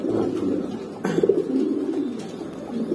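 A pair of adult racing pigeons coos softly and steadily at close range, a low rolling murmur with a brief louder burst partway through.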